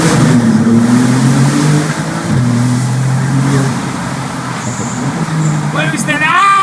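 Maserati MC20 engine pulling hard through the gears with the windows open, a loud steady drone that dips briefly at a shift and climbs again, with a voice talking over it.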